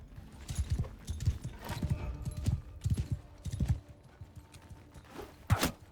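A horse's hooves in a medieval combat video game, a quick rhythmic run of thudding clip-clops at moderate distance, rising and falling over several seconds with a few sharper metallic hits mixed in.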